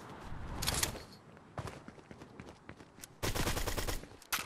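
Rapid SMG fire from Fortnite crackles in several quick bursts, the last one loudest and sustained, with faint footsteps and game ambience between them.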